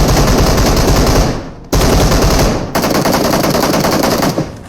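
Gunfire in a shooting video game comes as loud, dense bursts of rapid automatic fire, close and continuous, broken by two short gaps.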